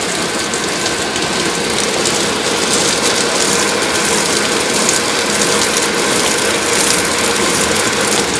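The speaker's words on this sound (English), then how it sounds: "You literally can hear the pump." A water pump running while being primed for a water tower, a loud, steady mechanical whir with a rapid, ratcheting rattle, constant and close for the whole stretch, with no talking.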